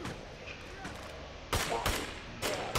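Gunfire in the State of Decay 2 video game, several sharp loud shots in quick bursts, with a pause and then another burst over a steady game background.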